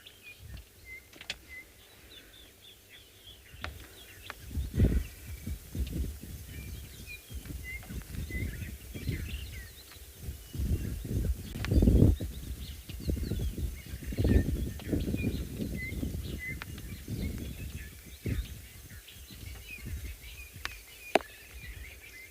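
Small birds chirp and call over steady falling rain on a morning safari in South Africa, with scattered near taps from raindrops and a low rumbling bed of sound throughout.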